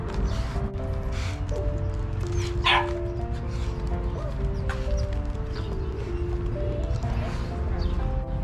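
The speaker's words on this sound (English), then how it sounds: "第一次见到别的狗还是很紧张的，需要时间熟悉一下。" A nervous dog meets another dog for the first time, giving short barks and yips against a steady, busy background with tonal hum.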